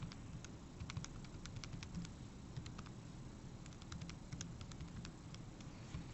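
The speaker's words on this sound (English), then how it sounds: "I'm just going to go back and type that into my calculator" Numbers tapped on calculator keys: faint, quick clicks scattered through steady background hiss, close and quiet, with no talking.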